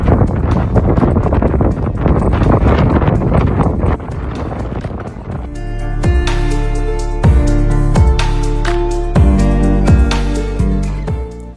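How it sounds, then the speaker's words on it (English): Strong wind at Eshaness on the Shetland coast roars into the microphone as heavy, steady buffeting, later joined by louder rhythmic thumping and clattering; no voices are heard. "But the wind is so strong, we are not sure how far we can make it."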